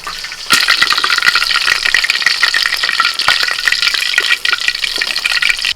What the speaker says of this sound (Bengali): এটা হচ্ছে আমার দ্বিতীয়বারের মাছ ভাজা হচ্ছে